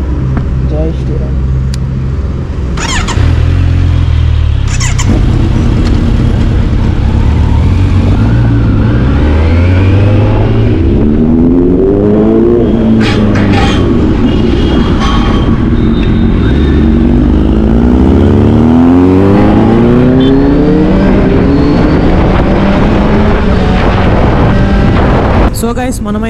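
A Kawasaki Z900 motorcycle on a first ride in Hyderabad, its engine droning and rising through repeated revving pulls as it accelerates, loud and close, with someone talking over it and passing traffic around.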